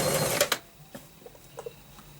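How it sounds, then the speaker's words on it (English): A sewing machine runs a straight stitch through lace in a short, fast whirring burst, then stops, followed by a few faint clicks and taps. "just with a straight stitch I'm going to sew that"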